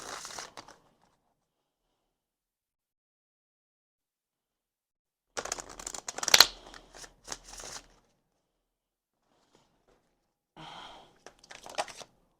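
An oracle card deck is shuffled in short papery bursts separated by long stretches of silence, with a louder cluster of handling in the middle and a brief flurry near the end.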